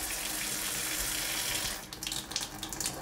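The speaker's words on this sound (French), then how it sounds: "j'ai le robinet qui est ouvert à fond et je le bascule complètement sur l'eau chaude" Tap opened fully and switched all the way to hot water at a sink connected to a boiler needing descaling, a steady close gush of running water that turns into splashy, uneven trickling near the end.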